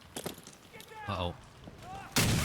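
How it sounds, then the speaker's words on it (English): Concussion grenade going off in Fallout 4, a sharp, loud burst arriving at the end after a stretch of quieter game noises and scattered pops. "That was a grenade, obviously. Like concussion grenades of some sort."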